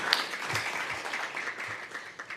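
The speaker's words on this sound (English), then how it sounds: "Get a round of applause" Applause rises at a transit agency board meeting as new transit police and ambassadors are welcomed, a steady moderate patter of many hands clapping that continues throughout.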